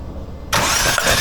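A BMW M4 engine cranking during a compression test: quiet background gives way to an abrupt, loud, broadband whirring of the starter and engine turning over that continues steadily to the end, with no talking.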